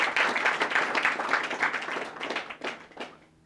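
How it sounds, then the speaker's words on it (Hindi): Students in a classroom clapping for a classmate, a burst of brisk hand claps that thins out and fades to scattered claps before stopping. "जोरदार ताली बजाओ, वेरी गुड"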